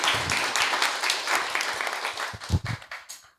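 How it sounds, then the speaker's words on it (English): An audience at a community listening session in Los Angeles applauds a panel, a fairly faint, loose patter of clapping that thins out toward the end. "I think everybody should give them a round of applause before they slip out of here"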